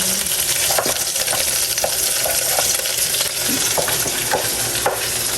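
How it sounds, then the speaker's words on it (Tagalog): Garlic, onion and ginger sauté in a hot pan with a steady, loud sizzle throughout, punctuated by a few soft scrapes and stirs of a utensil close by. "Gigisa na po ang bawang at sibuyas at luya."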